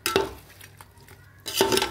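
Lightly fried, half-cooked chicken tikka added and stirred in a pot for biryani, two short bursts of metal spoon scraping and clinking against the pot with a quiet gap between, close and alone.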